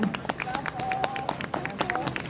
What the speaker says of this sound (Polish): Duże brawa dla Natalki.